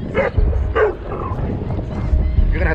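A 4-month-old Cane Corso puppy, acting aggressive in a public place, lets out a few short barks and yips spread across a couple of seconds, with a voice around them.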